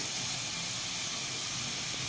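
Oil sizzling steadily in a pan while garlic cloves fry after potatoes were deep-fried brown for aloo fry, a continuous close hiss with no talk.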